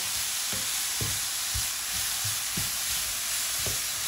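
Leeks sautéing in a pan give a steady, bright sizzle, broken by soft scraping stirs roughly every half second to one second, close and continuous with no talk.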